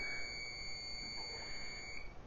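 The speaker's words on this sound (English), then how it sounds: "Mine makes that annoying beep to let you know that it's on for some reason." A crock pot gives a steady high-pitched electronic beep tone as it is switched back on and set to high, faint and continuous in a quiet kitchen with no talking.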